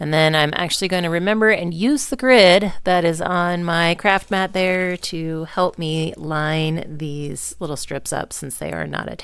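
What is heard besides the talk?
No distinct noise like a dog, phone or traffic.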